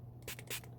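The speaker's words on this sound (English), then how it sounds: "I'm going to do a little spray right here" Two quick, soft hissing bursts of flux sprayed over a silver hatchet pendant before soldering at a jewelry bench, short and close against a quiet background.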